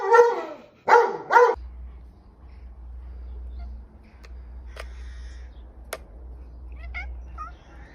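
A dog lets out three quick, close barks in a row at the start, then the scene settles into a low steady hum with a few faint, scattered chirps and clicks.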